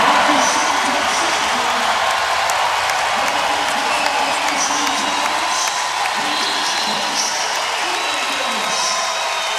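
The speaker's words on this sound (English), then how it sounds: "Listen to the round of applause he'll get." A basketball arena crowd during a VCU versus Dayton game applauds and cheers a player as he checks out, producing a sustained, fairly loud roar of clapping and scattered whoops under a commentator's voice.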